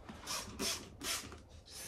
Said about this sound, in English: So let's just spray them all.